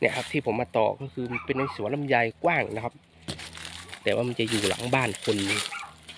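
A dog barking behind a house near a wide longan orchard, with intermittent barks and yips in the distance, mostly masked by someone talking close by.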